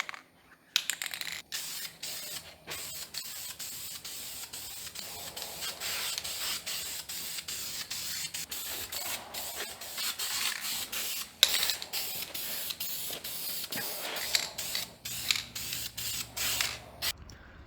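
A spray can applies Ford blue paint to the oil pan of a 1978 Fairmont's 200 cubic inch Ford inline six, with close hissing bursts broken by short pauses and clicks of the nozzle.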